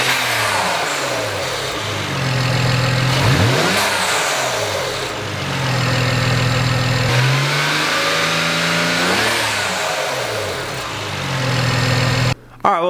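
A BMW E92 with an N54 engine and a charge pipe with blow-off valve, idling and revved several times in park; the engine climbs and falls through repeated rising sweeps, loud and close, with steady idle between revs.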